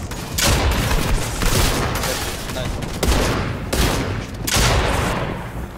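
Rapid gunfire crackles nearly continuously in a Fortnite match, with dense bursts and several sharper shot onsets over loud game noise, and voices faintly mixed in.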